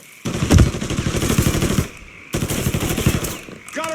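Rapid automatic gunfire in Mafia 3 Definitive Edition, loud bursts of closely spaced shots in two sustained volleys separated by a short pause, with a brief metallic clatter at the end.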